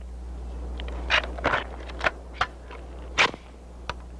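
A Heckler & Koch rifle with a telescopic sight fired at a 300-meter range at a 1970s firepower demonstration: a handful of sharp, crisp cracks at irregular intervals over a steady low background hum.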